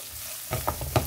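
Onion and garlic frying in hot oil, a quiet hiss that bursts into louder sizzling halfway through, with a few short stirring scrapes, close-up and without speech.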